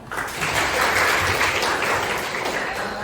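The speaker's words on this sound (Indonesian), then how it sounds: "Tepuk tangan." A crowd claps steadily in a dense, continuous round of applause that swells slightly and holds for about three seconds.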